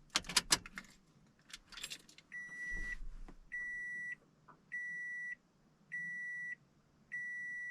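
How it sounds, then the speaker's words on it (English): Keys jangle loudly near a Toyota, then a steady chime beeps five times in an even rhythm as the ignition is turned on. "I'm going to turn on the car"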